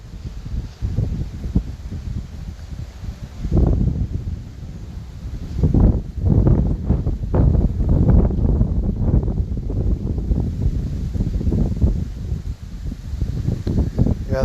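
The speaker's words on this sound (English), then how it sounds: "Sorry about the wind noise, it's nothing I can help." Strong wind buffets a drone's camera microphone while filming a wildfire at about 400 feet, a loud, continuous low roar with surging gusts throughout.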